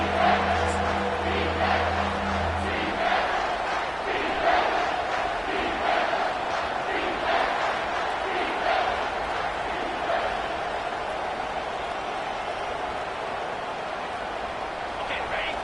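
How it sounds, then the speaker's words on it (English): A home crowd at a college football game swelling into loud cheering as the defense faces third down, a broad roar that builds and holds over a commentator's voice. "Here comes this home crowd as the defense tries to get off the field on 3rd down."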